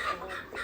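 A chicken clucks briefly on a farm, a short, fairly close burst of fowl calls over a soft background.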